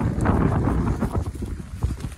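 Strong wind buffets the microphone on an exposed mountainside at Mount Longdon, a loud, continuous rumbling roar with gusting swells and no speech.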